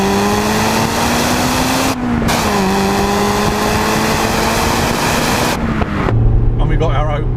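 A Honda Integra Type R, a front-wheel-drive car, driving a twisty road through corners: a loud sustained engine drone from inside the cabin, pitch rising and dipping as it lifts off and accelerates, with a voice speaking over it near the end.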